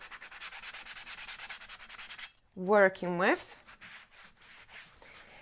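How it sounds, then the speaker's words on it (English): Steady rhythmic scraping of sanding a bottle surface for about two seconds, then a brief burst of other noise and quieter rubbing afterward. "So you could carry on sanding down if you like, or you could just leave it as it is."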